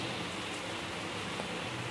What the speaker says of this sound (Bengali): দেখছেন এত জোরে বৃষ্টি হচ্ছে।